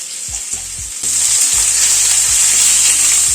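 Potato and pumpkin fry in a pan over a medium gas flame with a bright, continuous hiss that grows louder after the first second, alongside low rhythmic thumps. No one speaks.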